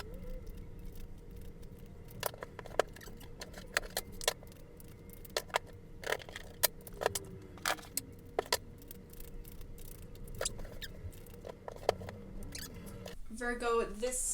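Tarot cards being shuffled close up: a scatter of sharp, crisp riffling snaps and soft flicks in irregular bursts, with quiet rustling between them and a louder flurry of card handling at the very end.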